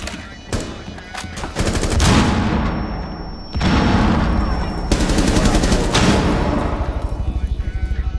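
Loud, dense gunfire from Rainbow Six Siege during a Border bomb match, with shotguns in play. Rapid overlapping bursts and heavy shots run almost continuously, rising and falling in intensity.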